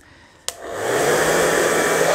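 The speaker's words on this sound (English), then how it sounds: "Next, I'm going to use the hairdryer." A hairdryer switches on with a click and ramps up to a loud, steady blowing roar, used to push liquid acrylic paint across a canvas in a Dutch pour, with no talking.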